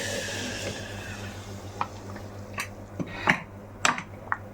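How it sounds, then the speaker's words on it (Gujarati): A tempering of mustard seeds, cumin and asafoetida in hot oil is stirred into mung dal dhokli in a pan, with sparse metallic clinks and scrapes over a soft background hiss and hum. "હવે એને વઘારી દઈશું।"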